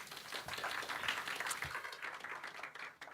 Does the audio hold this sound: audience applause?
yes